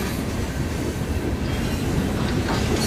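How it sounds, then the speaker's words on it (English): A slow freight train rolls past on a road trip between Texas and Louisiana, making a steady, dense rumble and rattle with no break, close and loud throughout. "This is the slowest train I've ever seen."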